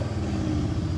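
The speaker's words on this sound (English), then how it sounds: "now that is what an AMG sounds like. Twin turbo," Twin-turbo V8 of a Mercedes-AMG GLE63 S running in a steady, loud, close low rumble that holds evenly for about a second, with no voices over it.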